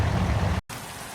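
Steady rain hisses in a truck driving video game around a Volvo VNL 300 day cab, a dense even wash of drops that cuts out briefly partway through and returns a bit softer.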